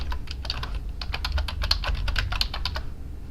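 Fast typing on a computer keyboard, picked up close by a microphone on a stand: a dense run of crisp key clicks with brief pauses, over a low steady room hum, with no talking.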